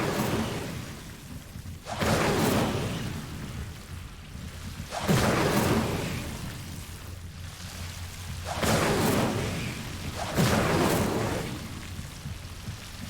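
Fire spells cast in a Harry Potter video game, heard as several loud whooshing bursts with a crackling roar, repeating every few seconds over a steady backdrop, with no talk.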